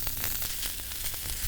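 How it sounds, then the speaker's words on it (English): Onions sizzle in tallow over a red-hot coal bed, a close, steady crackling hiss with faint irregular pops throughout. "This is a really good sign, that sizzle."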